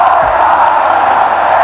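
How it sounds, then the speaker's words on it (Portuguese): Massed Palmeiras fans chant and cheer inside Morumbi stadium after beating Corinthians 4–1 in the 1999 Brazilian championship, a dense, far-off roar of voices that holds steady for the whole short stretch. "Canta satisfeita a torcida do Palmeiras."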